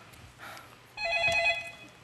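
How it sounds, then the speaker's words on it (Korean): A telephone rings in a Korean TV comedy sketch: a brief chirp, then a louder bright electronic ring that holds for about a second before fading, heard close and alone. "전화 한번 받아보세요."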